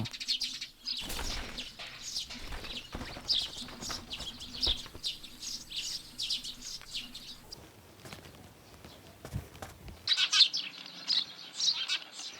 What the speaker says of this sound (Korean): 일찌감치 둥지를 틀고 가족을 이룬 참새들은 새끼를 부양하느라 정신없습니다.